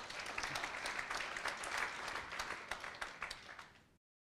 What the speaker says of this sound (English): Please, big applause for Marta.